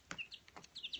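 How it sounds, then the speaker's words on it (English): Baby chicks chirping and peeping indoors in a bathroom, several high, bright calls scattered quickly across a second, close and fairly soft with a few louder bursts. "don't you love the sounds?"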